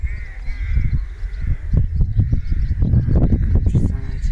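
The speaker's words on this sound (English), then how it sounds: "Crows making a lot of noise" Crows cawing repeatedly in the countryside over a low rumbling background, harsh calls overlapping in quick bursts, fairly loud and close.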